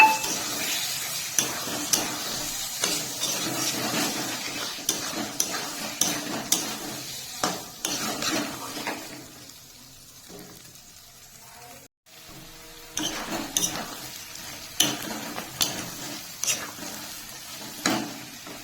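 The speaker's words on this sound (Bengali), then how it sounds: "মশলা কষানো হয়ে গেছে, সিদ্ধ করে রাখা মটর দিয়ে আরেকটু কিছুক্ষণ কষে নেব।" Boiled peas are stir-fried in spices in a pan for chicken ghugni, with repeated spatula knocks and scrapes over a quiet sizzle, a short pause midway, then steady stirring again.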